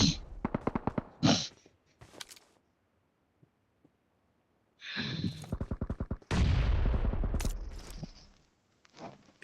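Rapid bursts of automatic gunfire in the mobile battle royale game BGMI, crackling volleys near the start and again around the middle and end, separated by a near-silent pause.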